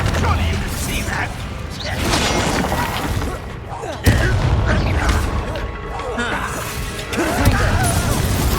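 Repeated Confringo blasting spells exploding in the video game Hogwarts Legacy, heavy booms and crashes layered over busy combat noise and music, with one sharp impact standing out partway through.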